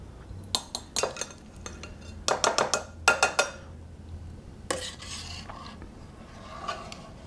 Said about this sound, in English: I'm going to scoop out the curds into a microwave safe bowl.